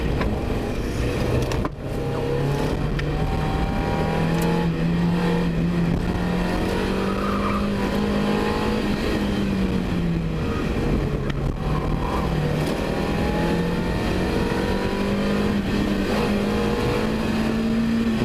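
An autocross race car at the FIRM runs hard through a slalom with a front wheel lockup, its engine droning loud and close with rising and falling revs and a tire squeal, continuous throughout.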